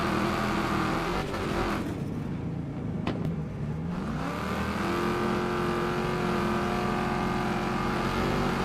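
A race car engine roars in the Wreckfest 2 video game, loud and steady with rising and falling revs and a brief dip mid-way before climbing again, no voices over it.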